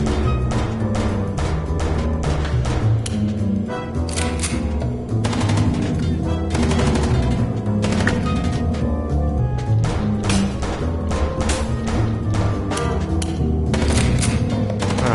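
Dense, continuous gunfire from the Chicken Police video game, rapid bursts and thumping shots stacked loudly over a steady background roar with no pauses.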